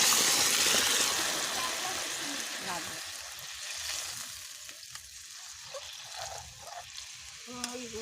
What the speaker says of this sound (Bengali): এবার জল দিয়ে দেবো। আমরা কিন্তু গরম জল দিয়েছি মাংসে